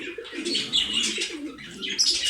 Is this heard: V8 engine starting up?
no